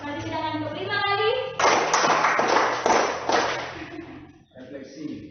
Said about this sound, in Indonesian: dengan suara saya tepuk tangan 2 kali